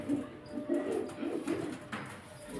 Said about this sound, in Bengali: এগুলো সব বন্ধ লেজের পায়রা